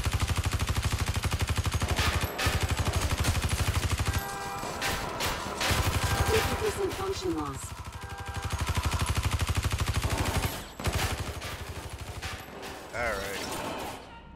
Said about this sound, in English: Dozens of people shooting at me.